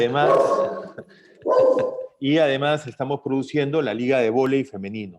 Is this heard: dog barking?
yes